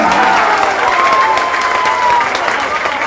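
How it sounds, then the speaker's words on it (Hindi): A large crowd at a Jan Suraaj political gathering applauds loudly and steadily, a dense wash of clapping with some cheering throughout. "एक बार आप ताली बजाइए"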